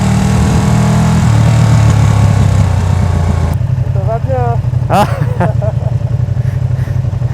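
A Ducati Panigale V2 sport motorcycle engine runs steadily and loudly close by, a harmonic drone that drops back midway while a brief exchange of voices sits over it.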